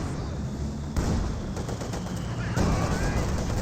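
StG assault rifle fire in the Company of Heroes 2 video game: bursts of gunfire crackle at moderate volume over a battle din, with a sharper volley at about one second and another near the end.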